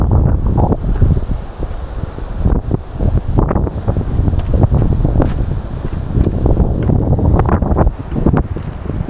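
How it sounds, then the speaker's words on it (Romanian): Strong wind buffets the microphone in loud, continuous gusts, roaring and rumbling steadily with no voices, on a mountain hike near the Chalaadi Glacier in Mestia, Georgia. "Oh, ce bate vântul aici!"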